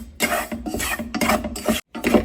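Semolina dry-roasting in a pan for kheer, giving a continuous close scraping and rasping of grains as a spoon stirs them, with a brief pause near the end.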